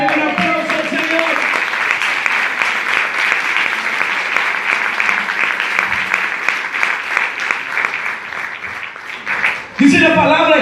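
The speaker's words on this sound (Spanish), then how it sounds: "Un aplauso al Señor." Applause from a congregation at a Spanish-language church service: dense, sustained clapping that fills about ten seconds before it fades and a voice briefly speaks.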